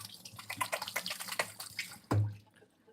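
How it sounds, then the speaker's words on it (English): Running tap water splashes over hands being rinsed at a home kitchen sink, close and continuous with small irregular spatters, ending in a brief heavier gush before fading. "Let me rinse my hands."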